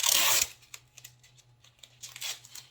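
Adhesive tape ripped from the roll in one loud, close burst, then quieter crinkles and soft pats as it is pressed onto a cardboard cat house.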